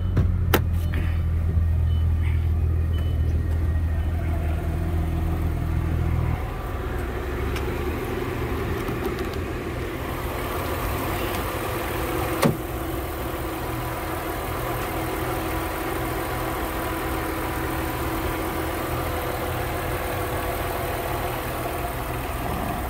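A 2000 Audi S4 engine idles with a steady, low, even rumble under some broader background noise, continuous throughout and with no talking.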